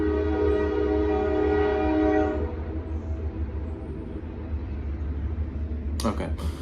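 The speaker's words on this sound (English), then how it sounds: "Train, West Virginia." A passing train in West Virginia sounds its horn for a couple of seconds, a loud sustained tone over heavy rumbling, then the wheels keep rolling on the rails, with a voice briefly heard near the end.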